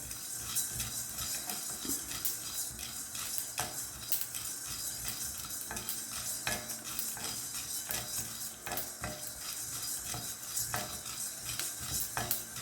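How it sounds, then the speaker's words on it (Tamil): Fennel seeds and spices dry-roasting in a hot pan, giving a steady crackle with light scraping and clinking of a utensil, fairly close and continuous, with no talk. "இது அப்படியே பொரிய ஆரம்பிச்சிருச்சு"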